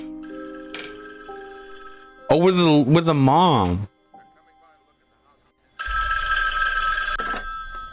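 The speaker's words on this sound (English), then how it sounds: "Answer the phone." A telephone rings in a Halloween video game, a loud electronic ring with steady repeating tones at the start and again near the end, with a person talking between the rings.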